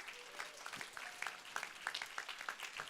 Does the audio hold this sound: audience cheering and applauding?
yes